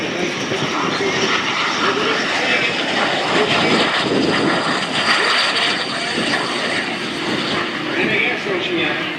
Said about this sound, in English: Greg Colyer from California slows down the jet by dropping the gear and the flaps, and a slow pass down